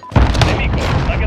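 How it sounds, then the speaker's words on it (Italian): A heavy, close grenade blast from Call of Duty: Modern Warfare erupts suddenly and loudly, followed by a rumbling, crackling tail as debris and echoes linger, with voices faintly mixed in. "Lancio una granata!"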